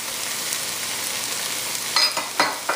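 Peas fry in a pan with a steady bright sizzle, joined near the end by a few sharp scraping knocks as they are stirred.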